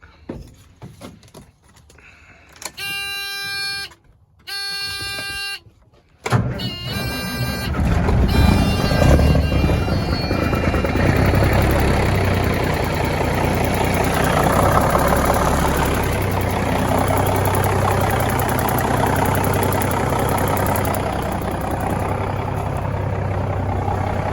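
Cummins Big Cam 4 diesel engine, first a couple of short buzzing bursts, then it cranks and catches and settles into a loud, rough, rumbling idle that carries on steadily.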